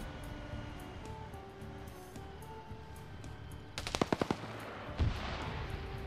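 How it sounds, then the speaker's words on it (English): Game BTR armoured vehicle rattling off a rapid machine-gun burst of about six loud, close shots over a steady in-game ambient wash, followed by one more isolated bang. "And the BTR immediately shoots at friendly."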